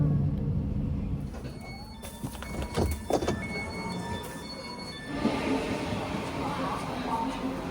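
A German subway train rolls along with a steady rumble and squeal of wheels on rails, loud and continuous from the interior, with a brief clattering burst partway through.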